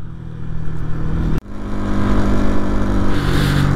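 A motorcycle engine drones steadily and close while riding near Pangong Tso lake in Ladakh, with a brief cut in the sound before the engine note resumes and holds on, without any talk.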